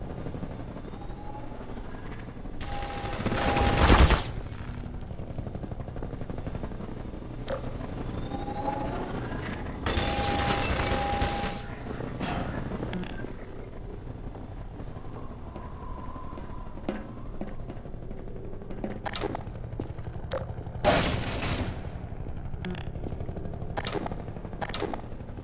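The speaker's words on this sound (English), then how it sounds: "How to take out the helicopter?" A helicopter drones steadily in the Half-Life 2 game while loud bursts of gunfire break in, several rapid volleys and scattered single shots over the ongoing engine roar, with no talk.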